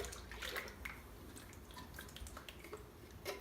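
Liquid contents of a container being poured into a bowl while cooking green chile chicken, giving a soft, continuous splashing and trickling with small drips, fairly quiet and close.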